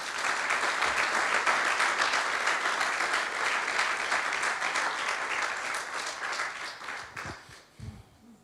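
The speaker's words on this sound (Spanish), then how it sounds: "Denle un aplauso al Señor." A church congregation claps steadily in warm, sustained applause that fades out near the end as a voice begins.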